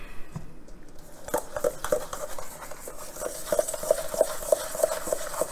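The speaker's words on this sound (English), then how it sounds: "Now we'll go ahead and get that mixed up." A whisk or spoon stirs pecan pie filling of eggs, vanilla and flour in a bowl, making quiet rhythmic clinks and scrapes that grow steadier and a little louder as it goes.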